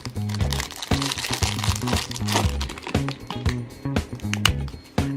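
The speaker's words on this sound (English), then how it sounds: "it's time for the fortune cookie" A fortune cookie cracks and crunches in repeated crisp snaps and crinkles close to the mic, with a low rhythmic background underneath.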